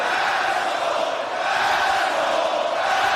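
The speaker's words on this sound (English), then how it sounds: "Listen to this crowd in Los Angeles." A wrestling arena crowd in Los Angeles roars and cheers in the WWE 2K26 video game, a dense, steady wall of loud crowd noise with no break.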